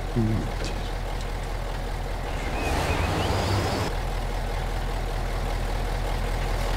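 A truck engine in the MudRunner game runs with a low, steady idling rumble and a brief surge in revs partway through, heard close and continuous.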